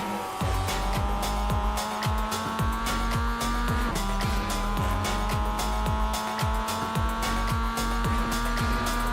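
Race car engine in a racing video game, loud and continuous, climbing through repeated rapid gear changes with a shift-down and renewed acceleration midway; tire squeal edges in at times.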